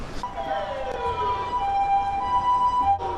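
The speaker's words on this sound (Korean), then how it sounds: "구급차 역주행하는 줄 알았네" An ambulance siren wails in long rising and falling tones, loud and steady over street noise, passing close by on an Osaka street.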